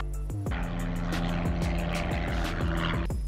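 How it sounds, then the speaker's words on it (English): A small single-engine propeller plane climbs out after takeoff on a student's first solo flight. A loud, close engine drone carries steady harmonic propeller tones with a pulsing beat, continuous throughout. "this plane takes off a lot better when you're by yourself"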